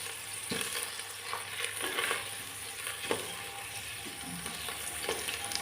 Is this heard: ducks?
no